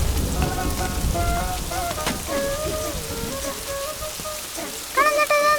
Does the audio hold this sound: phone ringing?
no